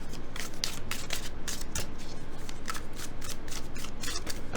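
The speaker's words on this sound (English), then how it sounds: "let's shuffle and draw some tarot cards for you" A deck of tarot cards is riffled and shuffled by hand up close, a dense run of crisp rapid flutters and snaps that continues steadily without any talk.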